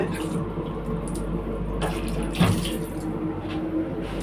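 Water runs steadily from a hand-washing tap in the bathroom of the Padatik Express train, with a brief louder splash partway through and the low rumble of the moving train underneath.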